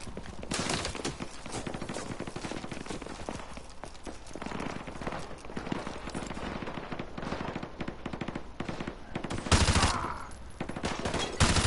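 Rifle and machine gun fire in the Call of Duty: Modern Warfare 2 Remastered finale, with dense continuous automatic bursts and shots layered over battle noise, loud and sustained throughout.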